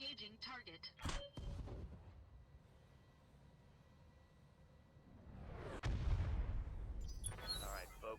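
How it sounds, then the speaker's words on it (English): A thumper cannon on a mech in the Battletech video game fires big rounds: a heavy, low boom near the start, then a sharp crack followed by a rolling blast later, amid mechanical game ambience. "this thumper cannon fires really big rounds"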